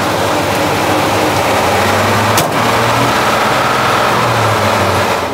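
A ZIL-157 army truck engine labors and drones continuously at close range while driving off-road in low-range gear, its low rumble steady with slight revving, joined by a sharp knock midway.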